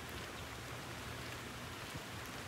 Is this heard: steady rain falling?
yes